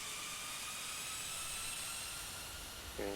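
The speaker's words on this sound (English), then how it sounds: "Let's get this beast in the air. Listen to those engines." Airbus A330-300 jet engines in a flight simulator game, a steady loud broadband roar with a thin high whine running through it, unbroken throughout with a slight bump right at the end.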